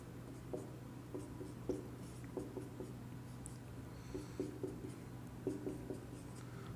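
Handwriting during a lesson, soft repeated scratching and tapping strokes of a pen or marker in short irregular bursts, close and faint over a steady low hum.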